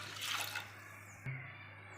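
Water pours from a tumbler into a pot of black kavuni rice, one brief splashing gush that ends abruptly, heard close and faint over a low steady hum.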